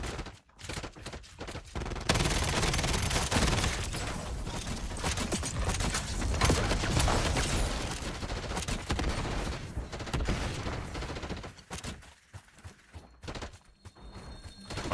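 A high-damage gun build in a video game fires sustained rapid gunfire, a dense roar of shots that runs for most of the stretch. It breaks into choppier bursts near the end.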